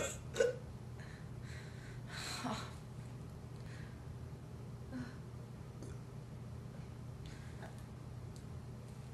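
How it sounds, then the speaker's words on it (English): Several faint hiccups from a woman, one sharp one early on and a few softer ones spread across a quiet stretch with a low background hum and some breathing. "Oh, great. Hiccups now,"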